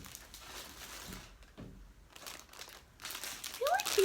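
Plastic packaging around small handmade items crinkles as it is handled, soft rustles coming in a couple of bursts, close by and fairly quiet.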